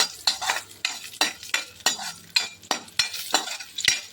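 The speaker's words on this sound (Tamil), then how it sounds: "முந்திரி திராட்சை நெய்யில் வறுத்தோம்" Cashews and raisins fry in ghee while being stirred, giving a soft sizzle under rhythmic scraping and clinking of a spoon against the pan, about two strokes per second, close and alone.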